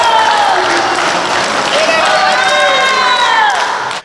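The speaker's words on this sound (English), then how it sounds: "The Mystique cheering section goes bananas." Crowd in a basketball cheering section roaring and cheering loudly throughout, with high excited shouts and whoops over steady dense crowd noise that cuts off abruptly at the end.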